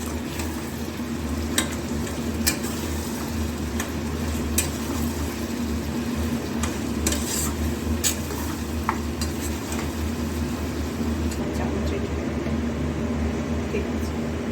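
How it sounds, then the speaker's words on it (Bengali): Mutton being stirred in a pan with Kashmiri chili powder and garam masala, a steady low sizzle with scraping and clinking of the spatula, close, while a person talks over it. "একটু নাড়িয়ে নিই সবগুলোকে একসাথে"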